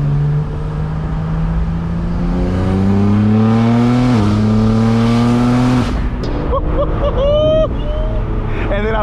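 A Pontiac G8X on a gravelly back road accelerates hard. The close, loud engine note climbs steadily in pitch, shifts up and then revs on again.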